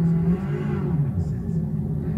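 A race car engine in a simulator game, played through a Ferrari SF1000 wheel and FURIA pedals, pulls away in first gear, a loud low droning rev that rises and shifts over two seconds.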